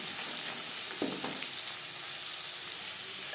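Sliced onions fry in a pan for a masoor lentil recipe, with a steady close sizzle and a few stirring scrapes, no talk.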